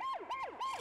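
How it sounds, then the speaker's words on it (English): A sleeping cartoon bus wails his siren in three quick, evenly spaced rising-and-falling sweeps, clear and alone. "Pat tends to wail his siren during his sleep."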